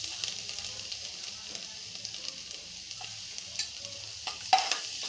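Chopped garlic frying in a very hot kadai with cardamom, cloves and cinnamon, a quiet, steady sizzle with a few sharper spatula scrapes and clicks near the end.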